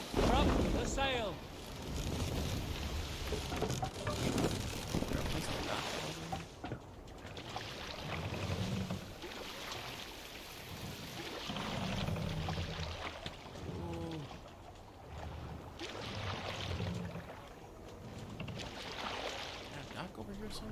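A Viking longship under sail in the game Assassin's Creed Valhalla: a steady, loud wash of wind and rushing water with low rumbling swells that runs the whole time, while voices talk intermittently over it.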